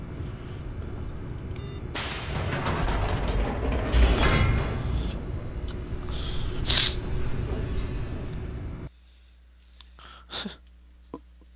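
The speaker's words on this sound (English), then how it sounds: "I guess I'll just go down the elevator." Elevator descent in The Stanley Parable video game: a steady mechanical rumble with creaks and clanks for several seconds, a brief louder clunk midway, then an abrupt cut to near quiet with a few faint knocks.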